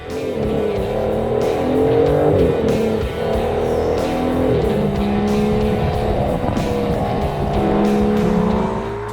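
A powerful sports car engine revs and roars steadily at close range, its pitch rising and falling as it accelerates, loud and continuous throughout.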